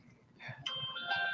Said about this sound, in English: Oh, somebody's getting a call.